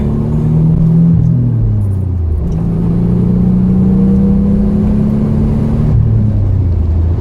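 A 1987 Nissan 300ZX Turbo revs up hard and accelerates, its deep rising drone dropping briefly as the gear shifts and then climbing again, loud and close.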